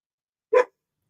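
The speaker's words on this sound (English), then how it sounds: "And thank you, Isabel, for whatever you just contributed through that bark" A single short dog bark, close and fairly loud, sounding once in otherwise silent surroundings.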